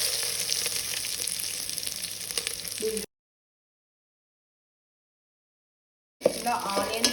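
Chopped onions and green chillies fry in a pan for chicken pulao, with a close, steady sizzle and crackle that breaks off into silence for a few seconds before returning loudly.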